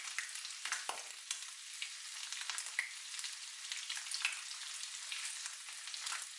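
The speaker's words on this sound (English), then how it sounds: "Take a look at this bacon frying here." Bacon sizzling and crackling in a hot pan on a gas cooker, a steady bright hiss dotted with small pops and spits, close up and without talk.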